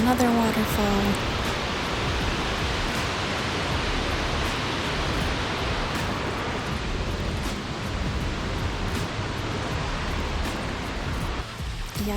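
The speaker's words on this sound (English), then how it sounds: "Another waterfall." A small waterfall runoff on a forest hiking trail, a constant rushing splash of water, fairly close and steady throughout.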